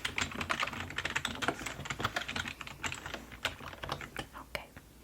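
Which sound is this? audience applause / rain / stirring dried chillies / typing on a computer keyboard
typing on a computer keyboard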